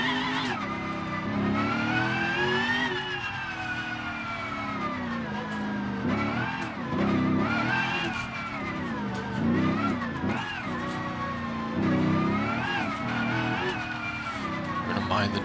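A C6 Corvette Cup Car racing in BeamNG.Drive, its engine roaring loud and continuous with rising and falling revs through gear changes, tires squealing through corners, and a voice talking over it.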